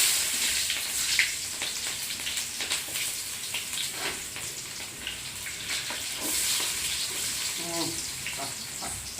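Onions frying in hot oil with cumin seeds in a home kitchen: a dense, crackling sizzle runs throughout, with occasional stirring scrapes and faint background voices.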